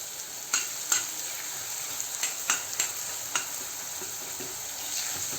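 Onions sizzle steadily in a pan with cumin and mustard seeds, with scattered soft scraping and tapping as they are stirred, at a moderate, even level.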